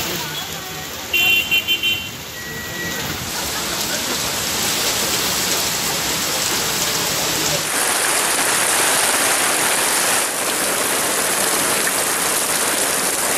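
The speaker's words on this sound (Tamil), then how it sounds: "இப்போ இன்றைக்கி பார்த்தீங்கன்னா சரியான மழை" Heavy monsoon rain pours down in the Nilgiris hills, a dense continuous hiss that grows stronger and louder partway through, with a few brief horn toots early on and faint talk in the background.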